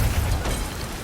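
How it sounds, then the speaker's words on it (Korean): Explosives in a garbage truck go off: a deep, rumbling blast with a heavy low-end boom that stays loud and rolls on through the second. "쓰레기 차에 있던 폭발물이 터지게 되죠"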